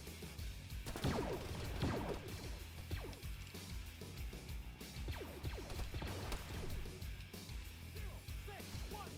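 Glass smashing during a Star Wars Rebels bank mission in a video game, with repeated crashes and shattering bursts amid clattering debris and faint background noise, no clear speech.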